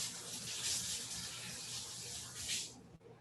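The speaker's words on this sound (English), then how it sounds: "And you want to give these a nice rinse." Deveined shrimp are rinsed under a running kitchen tap, a steady close splash and hiss of water that cuts off abruptly near the end.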